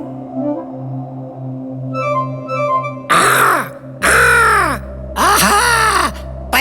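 A crow in an animated children's story caws in several loud, harsh bursts, each a rough rasping call, following softer low tones and music, close and prominent.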